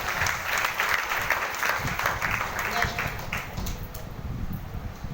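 An audience at a stage event claps in a dense, steady round of applause lasting the full stretch, fading slightly toward the end, with a voice speaking over it.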